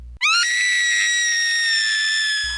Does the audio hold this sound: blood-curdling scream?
yes